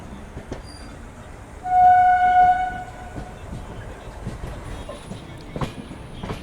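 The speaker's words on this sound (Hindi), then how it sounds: "हमारी ट्रेन अब धीरे धीरे नई दिल्ली की ओर बढ़ रही है।" The 20805 Andhra Pradesh Express passenger train moves at night, heard from inside a general coach: a steady rumble and rattle, with a loud horn sounding near the middle and scattered clicks of the wheels.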